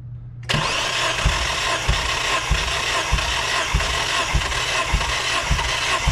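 A Mazda Miata NB engine cranks on the starter with a compression gauge fitted, the steady mechanical whir carrying a regular pulsing beat about twice a second, loud and close, without a voice.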